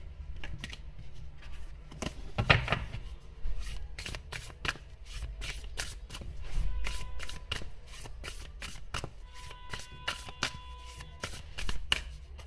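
Tarot cards are shuffled by hand in a series of quick, close, crisp riffles and taps, irregular in rhythm and fairly quiet, with no talking.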